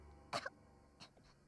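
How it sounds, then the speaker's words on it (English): Two or three faint, brief coughs, one sharp burst followed by softer ones, close but quiet against a low background. "Are you coughing?"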